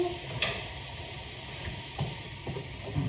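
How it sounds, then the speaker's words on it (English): Steady frying sizzle with a soft hiss throughout, broken by a few light clinks and stirring sounds from a pan, before tomatoes are added for sugo. "It starts to sizzle more, and this is for me the sign that you're ready for the tomatoes."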